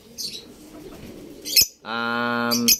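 Racing pigeons in a loft coo close by, a low rumbling harmonic coo of about a second following softer rustling and flapping, with quick high chirps between.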